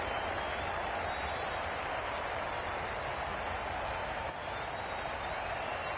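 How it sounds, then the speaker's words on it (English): A video game Cricket 22 stadium crowd roars steadily after a wicket falls, a continuous broad wash of cheering and applause at moderate level throughout. "The crowd are going wild."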